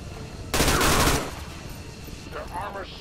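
A burst of automatic gunfire from the Skirmisher in XCOM 2: War of the Chosen, loud and close for about half a second, then quieter shots near the end.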